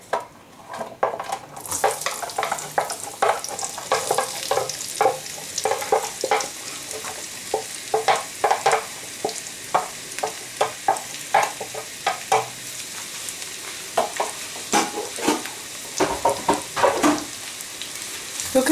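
Onions sauté in a pan with a continuous crackling sizzle, broken by frequent rhythmic scrapes and taps of a utensil stirring them, close and fairly loud.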